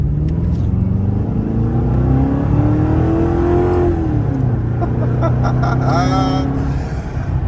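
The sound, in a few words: sedan with stainless cat-back exhaust revving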